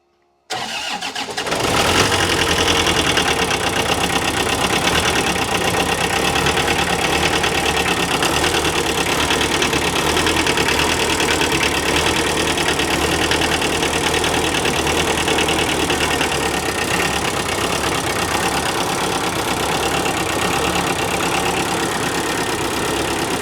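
Embankment mower engine idling at low revs in a workshop, a loud, steady mechanical drone with a faint knock that starts abruptly and runs continuously without talk.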